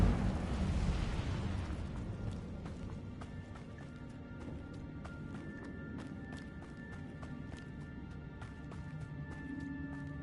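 An Incendio fire spell cast in a Harry Potter video game opens with a loud whooshing burst that dies away over about two seconds, followed by faint game ambience and light footsteps.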